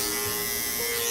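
Electric hair clipper running steadily at close range for a barber's buzz cut with low taper, a continuous even buzz with a slight pitch shift near the end, no talking.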